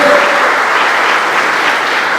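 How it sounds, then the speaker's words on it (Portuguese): Church congregation applauding the Lord during a pastor's sermon, a loud, dense and continuous wash of clapping from many people, close and steady, with a brief voice at the very start. "Dá uma salva de palmas ao Senhor que Ele merece"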